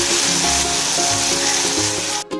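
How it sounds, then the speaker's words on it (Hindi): Onions with salt sizzle steadily in a pan for dhaba-style egg curry, a continuous close frying hiss with faint stirring and no talk. "जब तक हमारा प्याज भून रहा है"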